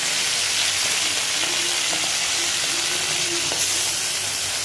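Salted, turmeric-coated prawns frying in well-heated mustard oil, a steady dense sizzle and hiss throughout with a few faint clinks of utensils, close and alone without talk.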